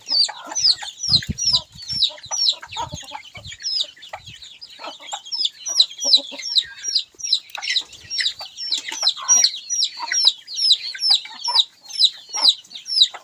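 A flock of chickens clucks and chirps steadily close by while being fed in the evening in a rural village, with a few low knocks early on.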